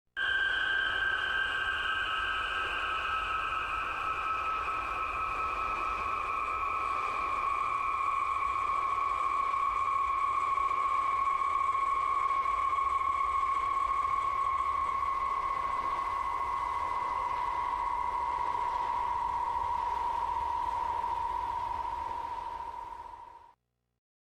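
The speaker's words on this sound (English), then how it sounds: "this is an aeolian harp in Japan. It's quite low speed, and you'll hear the sounds. You'll hear the sounds of the sea" An aeolian harp in Japan sounds steady, sustained wind-driven tones that slowly sink in pitch over a continuous wash of sea noise, then fade out at the end.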